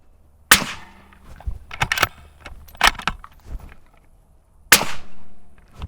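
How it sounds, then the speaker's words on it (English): Suppressed .308 rifle shots through a SilencerCo Hybrid 46M suppressor on an outdoor range, with two sharp, loud cracks several seconds apart and softer clanks and handling noises in between. "I'm very impressed with how good the 46 sounds on the 308 compared to the 36."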